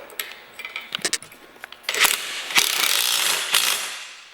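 A ratchet tightens the supplied bolts on a K2 Storm snow plow kit during assembly, giving quick bursts of clicking followed by longer, steadier clicking runs, close and fairly loud, with metallic taps in between.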